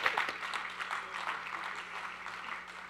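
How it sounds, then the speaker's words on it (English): An audience at a panel talk gives a brief round of applause, a soft, fairly distant wash of clapping that stays even for a few seconds. "Can I have a round of applause for all four of them,"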